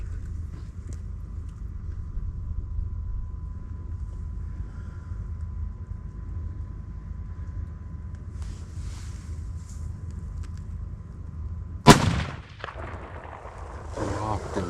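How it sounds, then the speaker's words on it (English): A rifle fires during a Colorado cow elk hunt. After a long stretch of quiet outdoor ambience with low murmuring, one sharp, loud crack rings out near the end and trails off briefly. "I had to shoot her in the head"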